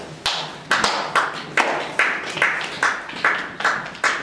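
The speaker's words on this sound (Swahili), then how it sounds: "Tumchapie Bwana makofi." A congregation at a Sunday church service claps hands in steady unison, about nine sharp, evenly spaced claps ringing out in a reverberant hall with no talking over them.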